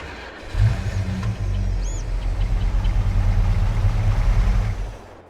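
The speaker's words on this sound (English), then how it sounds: "Let's go ahead and just turn the engine on so you guys can actually hear it." A pickup truck engine in Farming Simulator 22 starts and settles into a steady, deep idle rumble that runs loud and close for several seconds before fading at the end.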